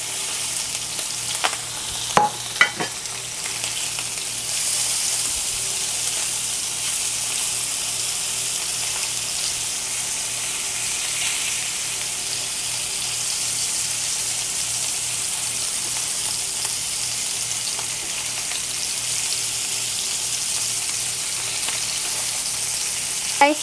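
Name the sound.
chicken breast frying in bacon fat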